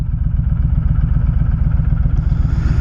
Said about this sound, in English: Just going to go out, take a little spin around, and just enjoy riding the bike.